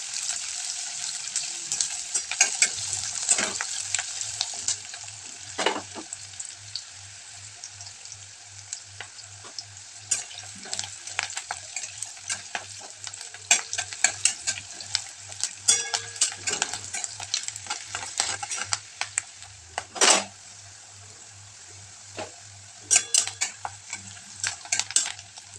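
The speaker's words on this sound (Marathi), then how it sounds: "आणि कांदा छान तळून घ्यायचा आहे" Chopped onion with cumin seeds fries in a pan, giving a steady hiss broken by repeated sharp clicks and scrapes as the spoon stirs it close up.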